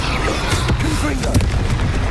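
A Confringo blasting curse explodes in the video game Hogwarts Legacy, a dense boom within a busy mix of spell effects and game music, with a sharp crack midway through.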